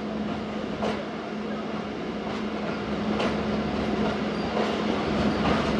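A passenger train runs steadily on Indian rail, with a continuous rumble and low hum, plus occasional brief clicks from the wheels passing over rail joints. The sound is fairly loud and close, as if recorded from inside the train, and no one speaks.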